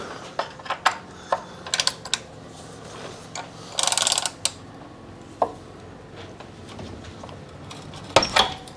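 Hex socket wrench working loose the oil drain plug on a 2005 Suzuki Jimny 1.3 petrol, with scattered metallic clicks and ratchet-like bursts, close and sparse, with no talk.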